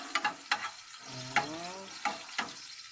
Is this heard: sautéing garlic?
yes